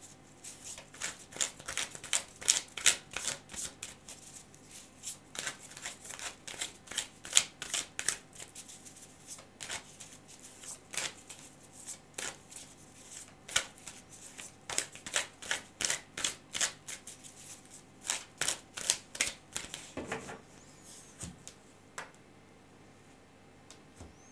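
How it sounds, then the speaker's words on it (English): Repeated bursts of tarot cards being shuffled, crisp riffling and flapping in quick rhythmic clusters with short pauses between, close and clear, ending in quiet. "So I'm just going to continue now and shuffle this deck several times."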